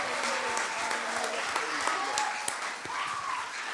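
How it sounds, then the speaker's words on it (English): A church congregation at a revival service claps together in a steady, lively round of applause, with people talking over the clapping. "let's give him a real hand clap"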